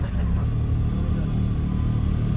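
A Can-Am X3 DS Turbo RR two-seater side-by-side with its turbo engine mounted right behind the cab runs at a deep, loud, steady rumble, close and unbroken, with no voices.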